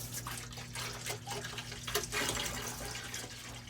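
Water running steadily as a swimming pool is refilled after pump maintenance, a continuous close splashing and trickling with a low hum from equipment underneath.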